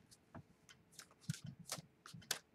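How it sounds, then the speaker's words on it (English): Quiet, crisp riffling and flicking of tarot cards in several short bursts, close by, with small taps between shuffles. "So I'm just going to shuffle a couple times."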